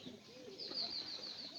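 A pigeon gives soft, low cooing calls close by, with a faint thin chirp or whistle drifting above, and no one speaking.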